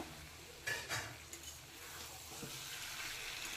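Fried potatoes being stirred into browned, oil-releasing chicken in a pressure cooker pot, a soft scraping and stirring with a faint sizzle, fairly quiet and close, a couple of louder scrapes early on.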